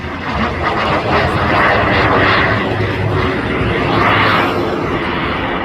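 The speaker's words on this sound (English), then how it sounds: "a very high-performance piston-powered jet plane" JSX Microjet, a subsonic piston-powered jet plane, flies past at an airshow, its loud roaring engine swelling and fading in two passes with a whooshing sweep as it goes by.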